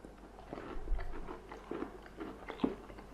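Crisp bites and chewing into a freshly fried, crispy onion bhaji, a few crunchy crackles and soft mastication sounds up close, with no talking.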